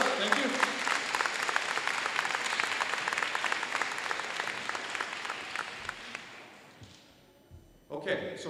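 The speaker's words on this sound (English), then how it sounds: "Let's give him a round of applause." School assembly applause for a supporter, dense clapping from a large audience that holds steady and then tapers away to near silence before a few louder sounds at the end.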